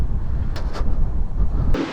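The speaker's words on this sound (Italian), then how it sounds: "Mi auguro che riusciate a sentirmi perché il vento c'è." Strong wind buffets the microphone outdoors, a loud, continuous low rumble with a few brief gusty bursts, and no voices.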